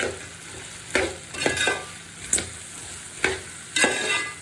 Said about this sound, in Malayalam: ഇനി ഇത് നല്ലപോലെ നമുക്ക് വഴറ്റിയെടുക്കാം